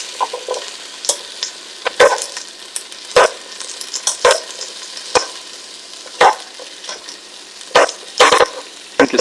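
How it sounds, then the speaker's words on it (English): Ginger, onions and garlic sizzle steadily in a pan for a Japanese clear soup while a utensil stirs them, scraping and clattering in irregular bursts over the constant frying hiss. "let's stir these around a little bit here"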